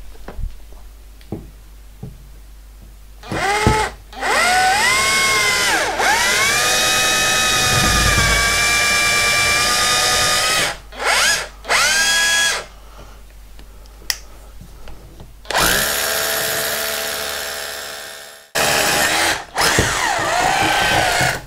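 A power drill, hammer action off, whirs loudly in several long bursts while fitting new radiators, its pitch rising and dipping, with short pauses and clicks between runs.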